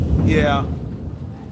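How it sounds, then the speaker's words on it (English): Thunder from an evening thunderstorm in Virginia rolls in as a deep, loud rumble that swells over the first half-second and then fades into a low, lingering grumble. "Wow. Maybe the storm's not over yet."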